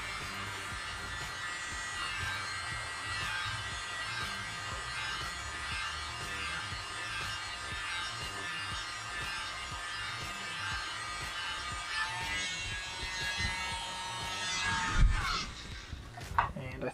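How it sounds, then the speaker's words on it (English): A small handheld mini blower drying black pour paint on coasters gives a continuous close, buzzing whir that holds steady, then shifts and ends in a few knocks and bumps near the end. "So I'm going to use the mini blower"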